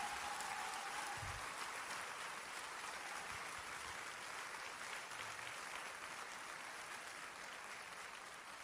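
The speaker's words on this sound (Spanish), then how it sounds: "Dele un aplauso al Rey." Church congregation applauding steadily throughout, a dense, sustained wash of clapping that stays fairly even and moderately distant, with a faint tone near the start and no clear talk over it.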